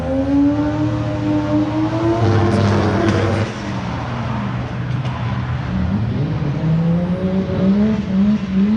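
A drift car engine at a drift contest at Evergreen Speedway revs hard and bounces off the limiter in rapid stuttering bursts, the pitch climbing and dropping as it drifts past at close range.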